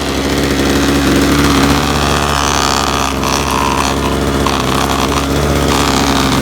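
A Ryobi EX-26 2-cycle curved shaft yard trimmer engine runs steadily close by, a loud buzzing two-stroke drone with slight fluctuations in pitch, alone without talking.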